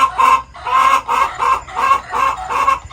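Hens in a coop clucking in agitated, rhythmic bursts, about six loud squawking phrases close by, with a drawn-out crowing-like call among them and no talking.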